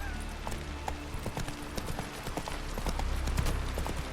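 Hooves of the horse Roach galloping in The Witcher 3, a rapid, continuous clip-clop drumming under faint background game sound.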